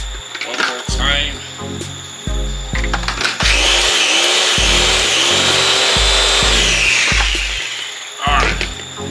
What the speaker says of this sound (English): Blend it all up. One more time.